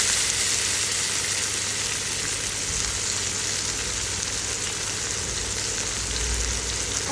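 Eggs frying in a hot wok for vegetable fried rice made with vegetables on hand, giving a loud, steady, close sizzle that holds without a break.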